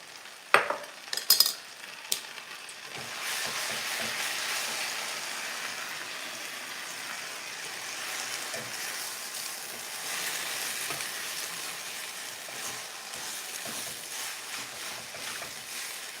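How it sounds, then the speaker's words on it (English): A small saucepan is cleaned out mid-cooking: a few sharp metallic clanks at the start, then a steady, loud sizzling hiss that carries on without pause. "Just cleaning out my little saucepan here."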